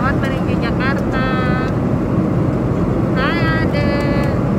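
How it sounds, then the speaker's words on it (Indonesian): Steady broadband airplane cabin roar inside a passenger jet bound for Jakarta, loud and constant throughout, with voices talking over it and brief chime-like tones. "Kita sekarang ada di pesawat menuju Jakarta."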